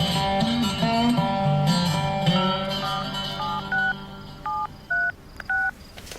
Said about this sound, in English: What are you doing with that phone? Who are you calling?